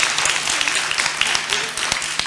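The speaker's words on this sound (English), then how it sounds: "Let's give her a clap" Applause fills the room at a session on women's empowerment through RMNCH, a steady wash of clapping heard from the audience, with some speech mixed in.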